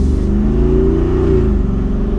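2021 Jeep Wrangler 392 Rubicon on 35-inch Nitto Ridge Grappler tires accelerating up to speed, a loud, close V8 drone rising steadily in pitch with a deep exhaust rumble throughout.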